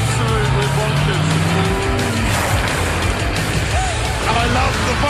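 A sports car engine revs hard as the car accelerates at speed, giving a loud, continuous roar with rising pitch sweeps and some tire noise, while excited voices talk over it.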